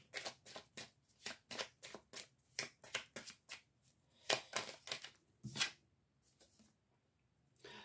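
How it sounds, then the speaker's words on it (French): Tarot cards being shuffled and drawn, a quick close run of crisp riffling flicks and slaps with a couple of louder snaps near the end before trailing off quietly, with no speech. "je vais tirer une autre carte au hasard sur le procès"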